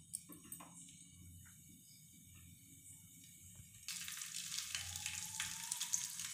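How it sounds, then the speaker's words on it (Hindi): Paneer cubes frying in a small amount of hot oil, a quiet, soft crackle that turns into a brighter, steady sizzle partway through, alone with no talking. "तो अभी इसको चलिए फ्राई करते हैं, तेल भी गर्म हो गया है, तभी हम फ्राई करना चालू करते हैं।"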